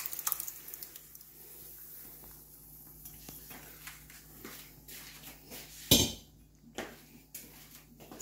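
Boiled moong and toor dal poured into a cooking pot for dal tadka gives faint wet sloshing over low kitchen hum, with one sharp clank of the pot near the end.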